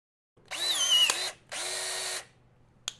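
A Gesipa Accubird 14.4V cordless battery rivet tool pulls a pop rivet into a test plate with two short whirring motor bursts and a small snap near the end.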